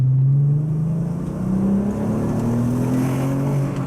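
A Volkswagen Golf R32 Mk4 engine revs hard and steadily on a twisty road, its loud, continuous rasping drone climbing in pitch with no talking over it.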